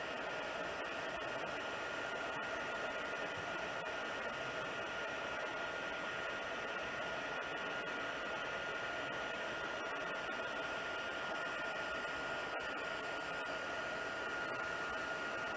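A heat tool melts embossing powder on a stamped card, blowing a steady, unbroken whirring hiss that stays even and moderately faint throughout.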